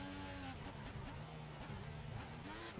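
Formula 1 race car engine from the F1 2014 video game, a steady high-pitched whine with shifting pitch sounding continuously and fairly close, with no talking.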